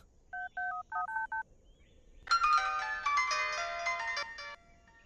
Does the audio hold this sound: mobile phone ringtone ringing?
yes